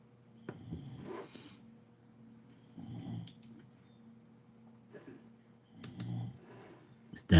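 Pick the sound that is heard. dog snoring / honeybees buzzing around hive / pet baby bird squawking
dog snoring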